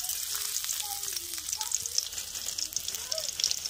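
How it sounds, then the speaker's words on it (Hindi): Garlic dropped into hot oil gives a dense, close, steady sizzle and crackle that holds through the whole clip, with faint voices talking underneath. "यहाँ पर हमने लहसुन को लिया है और लहसुन को डालेंगे अब हम"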